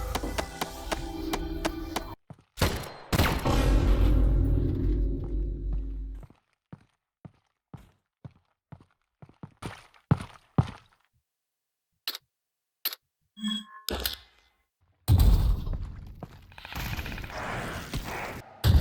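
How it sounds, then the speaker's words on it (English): A huge explosion in the Half-Life: Alyx custom map: a long, dense roaring blast, then a scatter of sharp crackling pops and debris hits, and a second loud rumbling burst near the end. "I set out to make the biggest explosion I could."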